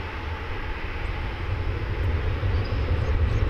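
An American Airlines jet taking off from a DFW Airport runway gives a loud, steady engine roar that swells gradually, heard from fairly close with no voices.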